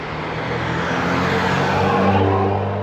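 A 3-litre diesel Audi A5 engine revving, a close, steady low rumbling drone that swells slightly in pitch and loudness toward the end, with no talking.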